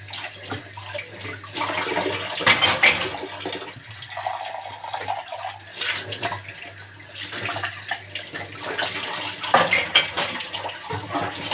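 Dishes being washed at a home kitchen sink, with steady running tap water, splashing and occasional clinks of plates and cutlery, close and continuous with no talking.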